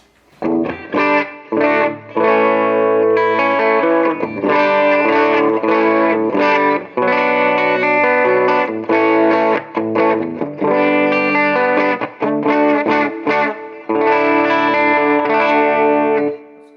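An overdriven semi-hollow ES-335-type electric guitar through a Vox amp plays chords and riffs with a crunchy, chorus-tinged tone, loud and close, with brief pauses between phrases.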